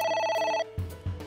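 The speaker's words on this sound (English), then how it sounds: "A phone." A phone rings in the video game AI: The Somnium Files, with a steady electronic trill that holds for about half a second, then breaks off into two low thuds.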